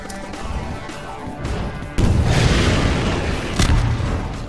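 In Half-Life 2, rocket launcher rockets explode as two heavy booms, one at mid-clip and a second shortly after, over a noisy, rumbling battle background. There is no speech.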